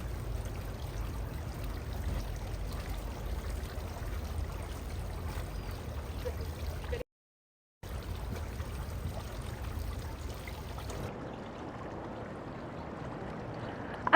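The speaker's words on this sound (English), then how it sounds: "a clean fountain, nicely dripping" Water runs steadily and drips in a freshly cleaned garden fountain, a continuous soft trickle close by with no voices, briefly cut out midway.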